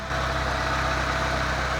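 A swapped car engine, restarted after sitting four years on a trailer, idling close by without knocking, a steady low rumble with an even mechanical throb and no voices.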